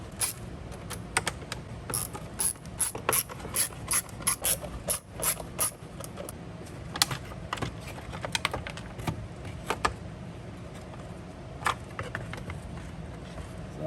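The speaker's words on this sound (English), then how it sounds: "now just to remove all the rest of the perimeter screws." Ratcheting clicks of a hand driver backing perimeter screws out of the plastic outer case of a Craftsman 25cc four-cycle leaf blower, quick repeated bursts of close mechanical ticking in a steady rhythm, no talking.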